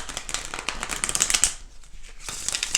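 A deck of tarot cards shuffled by hand, rapid riffling flutters in quick bursts with a short pause midway before another burst, close and crisp.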